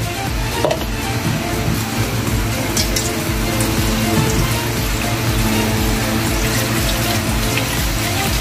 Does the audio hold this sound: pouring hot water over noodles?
yes